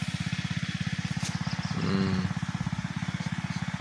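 A small engine-driven power sprayer runs while spraying mango trees, a steady rapid chugging throb with a brief swell of higher hiss midway, close and continuous.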